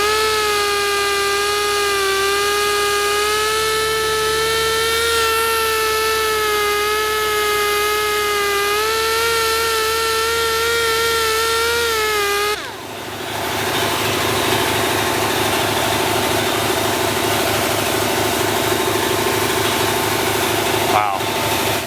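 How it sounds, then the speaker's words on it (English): Pneumatic polisher correcting paint on a Subaru WRX, a steady close whine with strong harmonics that drops out partway through, followed by a broader rushing air and motor noise. "So with this, with this polisher, we need to be careful that we don't get too aggressive."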